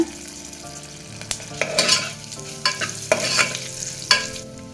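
Tamarind and asafoetida dropped into hot oil and stirred, with a sharp sizzle and repeated scraping clatters of the spoon in the pan, a faint tonal hum running underneath and no one speaking.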